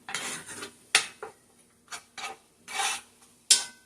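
Flour cooking in a pan for a pesto Parmesan shrimp Alfredo sauce, stirred with short, close scraping and rasping strokes that come in separate bursts with brief pauses between them.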